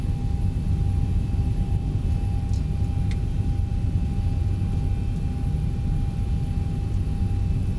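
A Boeing 737-800 in the X-Plane flight simulator taxis with its engines giving a steady, loud, broadband roar and a thin whine running through it, with no change for the whole stretch.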